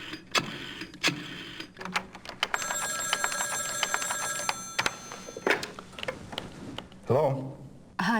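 A telephone rings in the adventure game Gabriel Knight: The Beast Within, a steady electronic ring lasting about two seconds among scattered clicks and other game sounds.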